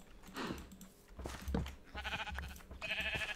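Sheep bleating in Minecraft, several wavering bleats close up, one after another, with faint game noise behind.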